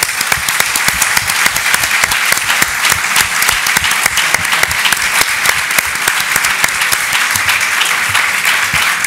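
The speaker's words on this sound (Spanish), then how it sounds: "el aplauso lo doy yo para todos ustedes y para la organización." Audience applause at the closing session of a European rural tourism congress in 2014, a dense, steady roar of many hands clapping that holds loud and close for the whole stretch with no talk over it.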